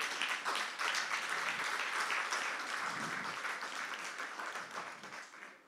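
A church congregation applauds steadily through the whole stretch, dense clapping at a fairly even level that tapers a little toward the end.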